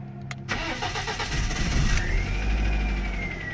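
A BMW 318ti that has sat unused for months cranks briefly and catches, settling into a steady close idle with a faint rising whine, preceded by a few key and ignition clicks.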